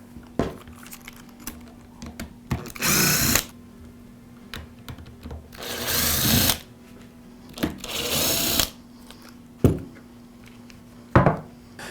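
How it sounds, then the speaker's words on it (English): A cordless Milwaukee drill removes the screws holding the transmission to the housing: three sustained, loud whirring bursts, with sharp clicks and handling knocks between them. "Now we'll remove the 4 screws that secure the transmission to the housing."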